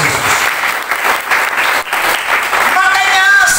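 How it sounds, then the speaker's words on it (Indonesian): A church congregation at a men's revival service in Kupang, Indonesia, claps loudly and continuously, a dense sustained applause with a few voices mixed in. "Berikan tepuk tangan yang terbaik buat Tuhan Yesus Kristus."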